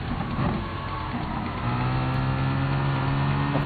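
The Group 3 Mustang race car in Gran Turismo Sport roars loudly and steadily, its engine note rising as it accelerates and holding a strong droning pitch.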